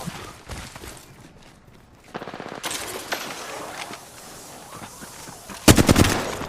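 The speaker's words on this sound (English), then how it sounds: "enemies are shooting at me." Automatic gunfire in the Apex Legends battle royale game crackles in several loud bursts, with a long rapid volley midway and a sharp, close burst near the end amid scattered shots.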